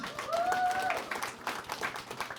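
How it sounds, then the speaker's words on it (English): A comedy club audience on Valentine's night applauds with brisk, close clapping that swells and then thins, a few whoops and cheers rising over it. "give her a round of applause"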